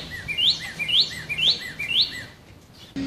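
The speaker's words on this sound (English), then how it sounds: "You hear that bird?" A bird repeats a bright, rising two-part chirp four times at a steady pace, fairly close and clear, then falls quiet near the end.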